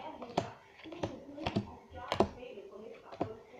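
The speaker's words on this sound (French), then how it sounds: "Je mets une carte à chaque fois." Playing cards laid down one by one onto four piles, a series of soft, close taps and light slaps with short gaps between them, while someone talks quietly.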